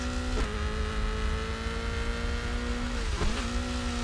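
A rally car engine drives over ice in the video game Colin McRae Rally, droning loud and steady with two quick dips as the gears shift, and no talk.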